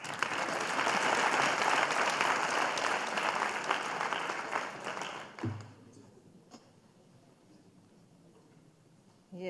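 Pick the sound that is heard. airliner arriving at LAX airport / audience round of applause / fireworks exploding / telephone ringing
audience round of applause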